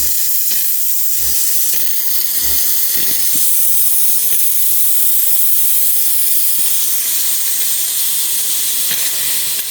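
An espresso machine steam wand is purged of water, hissing loudly and continuously, a harsh spray of steam with a few low sputters at the start.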